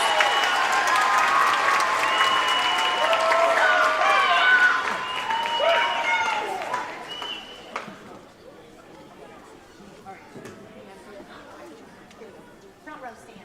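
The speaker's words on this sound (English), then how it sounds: "Can we have one more round of applause for the band, please?" Audience applauds after an elementary school band and orchestra concert in a school hall, sustained clapping and chatter that fades after about six seconds into scattered voices and murmur.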